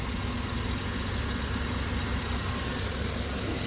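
A 2007 Chevy Suburban engine idles steadily up close after new intake manifold gaskets and PCV connections, giving a continuous even rumble with no talking.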